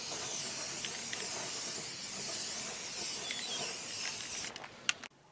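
Aerosol spray can held upside down and spraying during restoration of a vintage Suzuki T500 Titan motorcycle seat, a steady close hiss with rhythmic surging pulses that cuts off, followed by a couple of sharp clicks.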